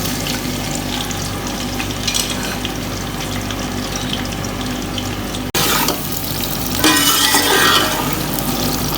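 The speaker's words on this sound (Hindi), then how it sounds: "ये प्याज के ऑयल के अंदर" Onion sizzles steadily in hot oil for a matka nihari, a dense continuous frying hiss close up, with a brief break midway and a brighter, louder crackle toward the end.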